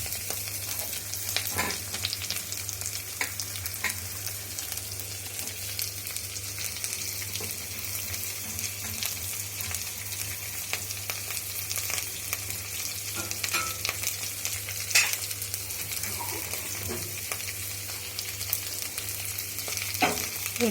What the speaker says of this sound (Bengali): তারপরে কাঁচা লঙ্কাগুলো দিয়ে দিলাম, আর জিরেগুলো দিয়ে দিলাম